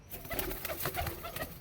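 Punjabi malai chhatri pigeons from Ludhiana coo in a close, steady chorus of soft repeated calls, with no talking.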